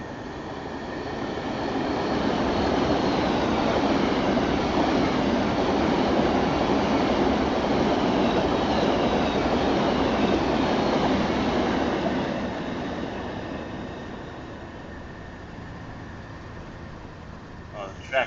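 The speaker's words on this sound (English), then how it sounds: "The track sings, so that makes it even more realistic." A train in the Train Sim World 6 game, on the New York to Stamford line, runs over singing track with a continuous rolling rumble that swells, then eases and fades near the end, with faint talk over it.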